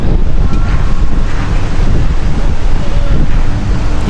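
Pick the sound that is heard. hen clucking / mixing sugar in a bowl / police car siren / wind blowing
wind blowing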